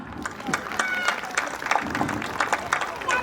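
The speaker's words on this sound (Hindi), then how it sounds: "घोर समस्या के लिए तालियां" Audience at a Hindi comedy poetry gathering claps, an uneven spatter of applause mixed with crowd voices and calls from nearby listeners.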